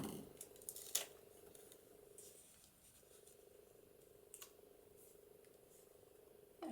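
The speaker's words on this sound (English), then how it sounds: "So I'm just going to cut that out of the sheet." A pink paper butterfly is cut out of a printed sheet with scissors for a junk journal page: soft, sparse snips and faint rustles sit close by over a steady low hum, with no talking.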